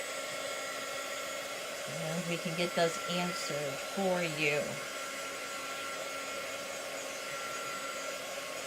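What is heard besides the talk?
hair dryer blowing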